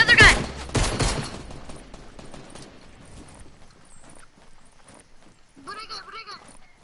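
Gunfire in the Fortnite video game: a loud burst of rapid shots at the start, then scattered fainter shots, with players talking over the game sounds.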